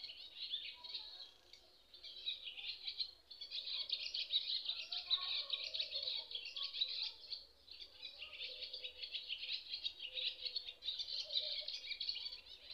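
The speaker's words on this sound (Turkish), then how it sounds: "Kuşlarımız da sağ olsunlar. Sürekli konserlerini veriyorlar." Small birds chirp and sing continuously outdoors in a garden, a faint, steady chorus of high twittering calls carrying on for several seconds without voices.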